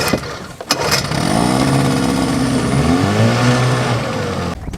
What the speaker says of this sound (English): We had the motor ripping.